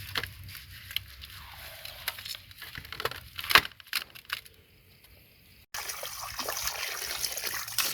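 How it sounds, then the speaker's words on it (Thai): Salted eel being rinsed under clean running water, a steady close trickle and splash with handling noises, the flow cutting out briefly before a louder gush resumes near the end. "เอ่อรูดเกลือแล้วก็มาล้างน้ำสะอาดออกอีกจ้า"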